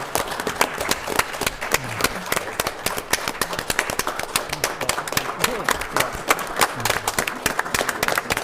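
Scattered applause fills a city council meeting chamber in Rock Springs, a steady patter of many clapping hands, moderately close, lasting throughout with faint room murmur beneath.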